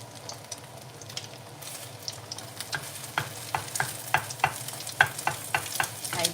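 Beaten egg for a Thai-style omelette sizzles and crackles in hot oil in a pan, a steady fry with sharp spattering pops that grow louder and more frequent toward the end, with no talking.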